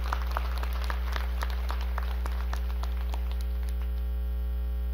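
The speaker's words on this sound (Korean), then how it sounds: "우리 이 시간 아버지를 위해서 박수 한번 치도록 하겠습니다" Scattered clapping from a church congregation at a Sunday service, a loose patter of hands over a strong steady electrical hum, fading into the hum toward the end.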